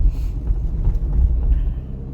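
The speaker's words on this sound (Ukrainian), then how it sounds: "Я переходжу на другу швидкість і рухаюся прямо." A car moving straight in second gear produces a steady, close, low engine rumble with slight road and wind noise throughout.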